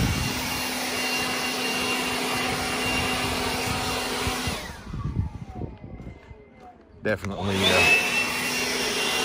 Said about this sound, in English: this thing blows pretty decent here, so right up over the curb.